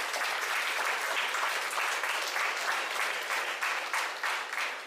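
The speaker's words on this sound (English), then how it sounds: "give all the parents and all the supporters around the applause" Banquet audience at a high school athletic sports awards night applauding parents and supporters, a dense, loud, continuous round of clapping that holds steady throughout.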